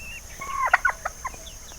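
Calls from a captured male alimokon bird, a series of short, sharp chirping and clucking notes close by, several quick bursts over under two seconds against light background noise.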